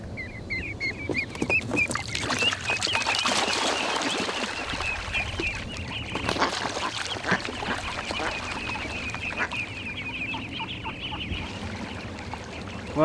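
Released ducklings and their mother give repeated high peeping with a few lower duck calls outdoors, over a rustle of movement and background noise, with no talking.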